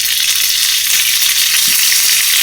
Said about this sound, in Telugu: ఆవాలు కొంచెం చెడిపట్లు ఆడిన తర్వాత కరివేపాకు యాడ్ చేయాలి.